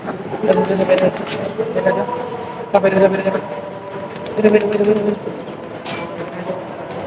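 Pigeons being let go from close by give soft coos and bursts of fluttering wings, heard among people talking nearby.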